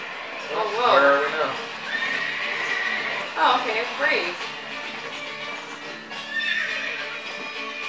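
A horse in the Disney Infinity 2.0 video game whinnies in a few rising and falling bursts amid clip-clopping hooves, while a person talks over the game sound.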